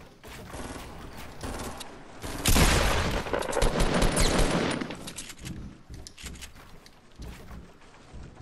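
Rapid bursts of gunfire in a 1v1 video game match, a dense loud volley building after a quieter start, then scattered shots and clatter trailing off.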